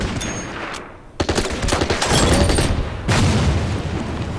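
Artillery and anti-tank gun fire in the Order of Battle Winter War strategy game, set at Suomussalmi: loud booming shots and crackling bursts rolling over one another, with a short lull before another blast.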